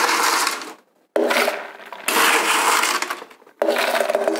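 A kitchen blender crushes pineapple and ice for a virgin colada, running loud and close in three bursts separated by brief silent pauses, with no talk.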